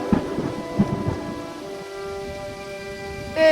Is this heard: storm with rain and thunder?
yes